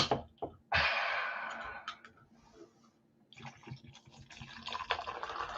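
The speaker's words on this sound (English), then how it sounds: "Here comes the Diet Coke commercial sound." Diet Coke is poured from high over ice in a glass: a loud fizzing pour, then crackling and hissing carbonation with small clinks that fade and rise again, heard close with no talking.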